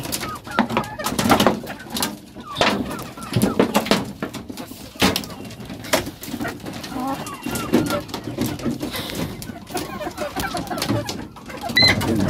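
Chickens on a poultry farm, including a large rooster, cluck and call intermittently in the barn while someone talks over them at close range.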